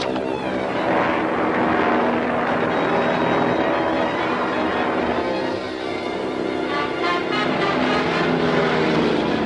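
A propeller airplane drones loudly and steadily throughout, its engine hum rising and wavering slightly without any voices.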